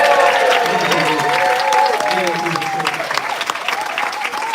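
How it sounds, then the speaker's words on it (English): A crowd at a live event applauds warmly, dense clapping close and loud throughout while voices and cheers ride over it, tapering slightly toward the end. "I want to give a big round of applause to Juliet Stevenson"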